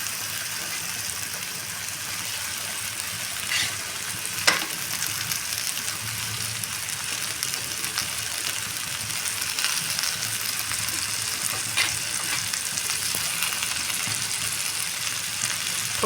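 Okra (bhindi) frying in a pan for a Marathi home-style bhaji, a steady close hiss and sizzle throughout with a few brief louder crackles and pops.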